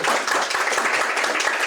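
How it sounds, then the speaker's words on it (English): Close, loud clapping from an audience at a technology policy hackathon as a speaker is welcomed, a thick burst of hand claps with no talking. "We're supposed to be clapping."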